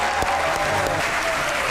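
Studio audience applause on a TV comedy show greeting guests Umaid Asif and cricketer Ahmed Shehzad, dense continuous clapping filling the short moment at steady volume.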